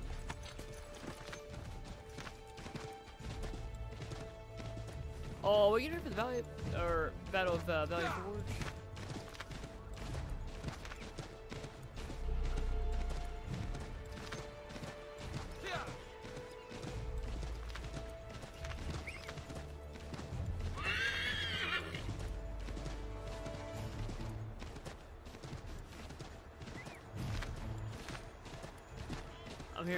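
Horse hooves clip-clop with occasional neighing and whinnying in Assassin's Creed 3, mixed with game music and effects while a player talks over it.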